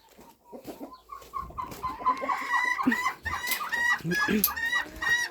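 Hens cluck loudly and insistently nearby after one has just laid an egg, a rising cackling burst with repeated squawks, and a person speaks briefly at the start.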